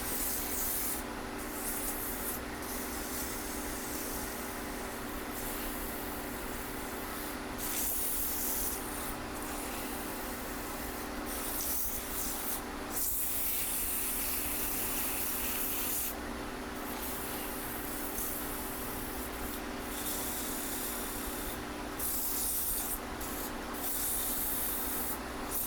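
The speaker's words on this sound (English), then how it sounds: "This is a 150 grit." Sandpaper of 150 grit held against a wooden peg doll spinning on a lathe, a continuous loud hissing rasp with the motor's steady hum beneath and no talking.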